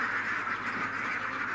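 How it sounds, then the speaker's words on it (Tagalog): Ducks on a farm in Ormoc, Leyte, Philippines quacking together in a dense, continuous nasal chorus, moderately close with no voices over it. "terrace ng mga itik ni Sir Arnold"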